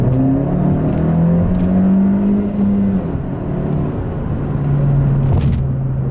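Honda Civic Si FK8 engine revving while driving, a loud, steady engine drone from inside the car with pitch rising and falling as it revs and the revs hang between shifts.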